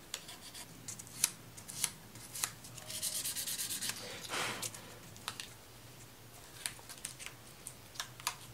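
Light sanding on a guitar with 1000 grit sandpaper: faint, soft rubbing strokes, mostly in a short burst midway, with scattered small clicks and taps around them in a quiet room.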